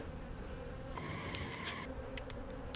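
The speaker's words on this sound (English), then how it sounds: "there's many bees are in here" Honey bees humming around an open hive during a swarm inspection, a dense continuous buzz, close and steady, with a few brighter passes of individual bees flying near.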